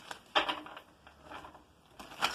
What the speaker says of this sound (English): I'm going to do 3 shuffles and a cut.